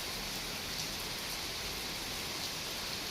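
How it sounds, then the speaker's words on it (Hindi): Heavy monsoon rain pours down in a steady, dense hiss that fills the whole moment without a break. "खतरनाक हो रही है बारिश।"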